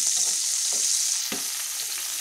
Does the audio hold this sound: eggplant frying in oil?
yes